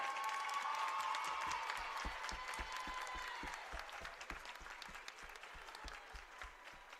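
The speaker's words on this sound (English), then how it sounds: "please give a big round of applause for number 3, Journey Tyler." Sustained crowd applause at a Brevard College women's basketball Senior Day game, honoring a senior player, dense clapping filling the gym for the full stretch and gradually thinning toward the end, with an announcer's voice faintly beneath.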